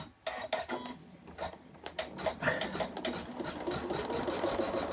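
An embroidery sewing machine stitches out a table mat, a steady run of rapid needle clatter with bursts of sharper ticking, close and continuous throughout.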